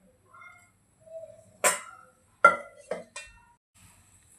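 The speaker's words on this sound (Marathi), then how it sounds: "पॅन आपण ठेवूया, त्यामध्ये ऑइल ॲड करूया." A cooking pan is set down on a stove for tempering semolina uttapam batter, giving a few sharp metallic clinks and clatters spread apart, close and fairly clear, with quiet gaps between them.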